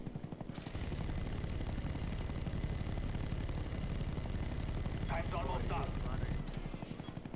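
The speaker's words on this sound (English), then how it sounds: "Our counter spy plane is in the air." Counter spy plane flying overhead in a Call of Duty hardcore team deathmatch: a steady, loud droning aircraft rumble sustained throughout, with a brief clattering burst near the end.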